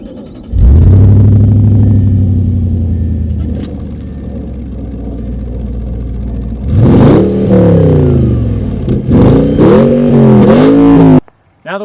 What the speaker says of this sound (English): let's go to the back and get a mean exhaust clip.